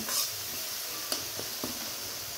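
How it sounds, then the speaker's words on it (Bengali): Shrimp sizzle quietly in hot oil, a continuous frying hiss punctuated by three or four brief utensil taps against the pan, close and without any speech. "আর একটু ভেজে নিব।"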